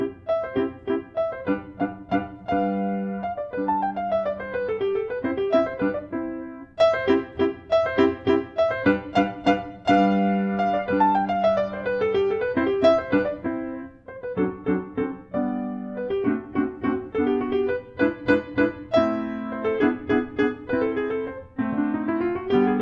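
Kawai K800 upright piano played solo, with flowing runs and arpeggios across the range, rolling chords and repeated struck notes, clear and close with no talking.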